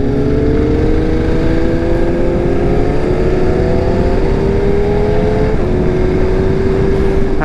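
A group of motorcycles fitted with Akrapovic exhausts rides together on a touring trip near Hampi. Several engines drone loudly and continuously up close, with rising rev tones as the bikes accelerate.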